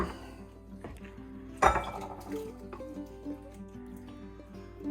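Homemade salsa is moved into a bowl with clinking and scraping of utensils against dishware, including one sharper knock partway through, amid light kitchen clatter with no talk.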